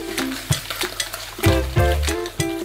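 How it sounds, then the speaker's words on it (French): Eggs and sugar being whisked by hand in a bowl for cupcake batter, a quick irregular run of clattering metal strokes against the sides, close and bright. "on va bien fouetter le tout pour avoir une texture la plus aérée et mousseuse possible"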